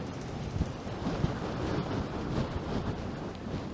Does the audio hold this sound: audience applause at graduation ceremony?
no